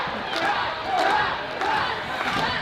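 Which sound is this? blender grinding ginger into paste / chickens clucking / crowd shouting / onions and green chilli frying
crowd shouting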